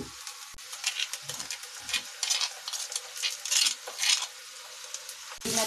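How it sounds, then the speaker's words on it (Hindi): Coarsely pounded masala and onions being fried in a pan, a soft sizzle beneath repeated scraping strokes of a spoon, with a couple of sharp clinks against the pan, no talking. "मैं अच्छे से भून लूंगी मसाले को"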